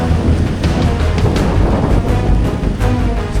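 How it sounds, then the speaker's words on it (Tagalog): Heavy rain pours down steadily on a beach campsite, making a dense, loud roar of hissing noise with a few sharper gusts or rumbles mixed in. "sana hindi na mas lumakas pa yung ulan dito kasi grabe"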